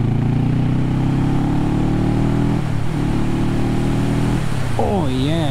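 A Kawasaki Vulcan S motorcycle engine drones steadily up close, then its pitch rises and falls as the bike shifts and accelerates, loud and continuous, with wind rush throughout.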